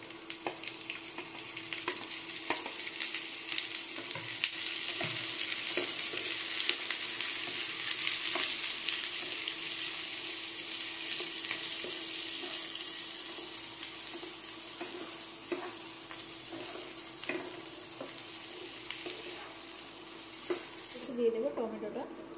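Chopped onion and carrot sizzle steadily in hot oil in a pan for a soya chunks curry, a continuous close frying hiss with occasional stirring scrapes and faint speech.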